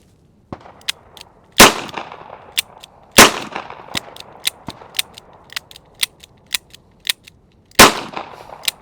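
Taurus Tracker 692 multi-cartridge revolver firing outdoors: several sharp, loud reports spaced a second or more apart, with many lighter metallic clicks and mechanism sounds between them.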